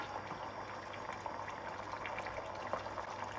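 Pork pasta sauce simmering on a stovetop gives a steady, soft bubbling hiss with small scattered pops, continuous and fairly quiet throughout with no talking.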